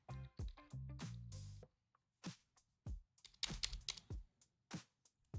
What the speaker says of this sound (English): But we're going to type in,